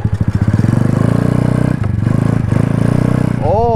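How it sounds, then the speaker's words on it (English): A small 70cc Honda motorcycle's engine and exhaust putter with a fast, even pulsing beat, loud and close with a few brief dips, ending on a rising whine. "But the engine, bro, and the exhaust,"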